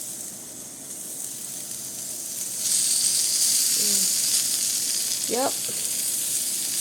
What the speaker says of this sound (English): so we're gonna try to add some meat to the grill